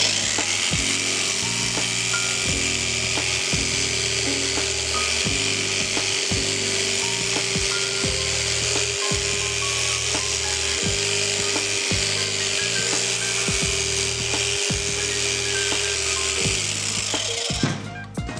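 Electric rug shearer trimming the pile of a tufted rug lower, a steady loud motor whine running continuously with rhythmic rough cutting passes repeating every second or so, close and without talk until it cuts off at the end.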